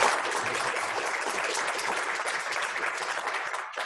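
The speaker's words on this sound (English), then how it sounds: "A round of applause." An audience at a community talk claps steadily at the close of the session, a continuous wash of applause that fades slightly at the end.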